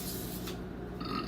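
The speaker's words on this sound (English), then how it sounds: "I can't get stopped burping." One person lets out a short, low burp close by, set against a steady background hum, with no talking.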